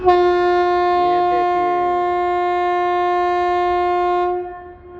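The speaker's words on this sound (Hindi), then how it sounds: "अमरपाली एक्सप्रेस अब ये जाने वाली है" Amrapali Express locomotive sounds a long, steady, loud horn at an Indian railway station before departing, a single sustained blast that fades out near the end.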